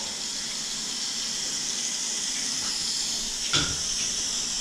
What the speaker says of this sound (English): Water running for the sink.